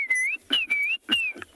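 A person whistles an imitation of a Klaas's cuckoo call: three clear, sustained wavering whistled notes with short gaps, close and alone.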